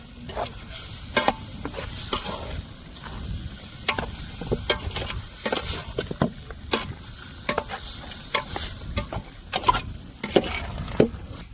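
Chopped liver and chicken gizzard frying and being stirred in a hot pan for a family-style liver sukka: a steady sizzle with repeated scraping and clinking spoon strokes. No one speaks.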